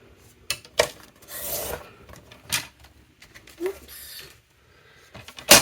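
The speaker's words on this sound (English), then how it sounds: "we are going to cut this down by 1/4 of an inch on each side" Card stock for a holiday card is trimmed with a paper cutter, giving scattered rasping, scraping strokes and sharp taps at close range, with a brief spoken exclamation partway through.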